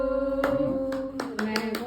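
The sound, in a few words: hand clapping at birthday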